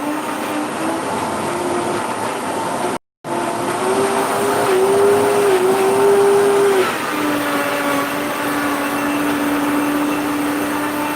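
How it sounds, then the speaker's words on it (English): Blender whirring steadily as it purées potatoes, cashews and carrots into a thick macaroni cheese sauce, a loud continuous motor whine whose pitch shifts slightly partway through, with no talking. "So I'm going to blend."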